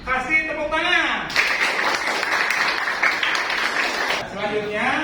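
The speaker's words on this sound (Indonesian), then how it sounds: "Kasih tepuk tangan." A class of students applauds a classmate's correct answer in a civics lesson, a few seconds of steady clapping set between stretches of a teacher's voice before and after.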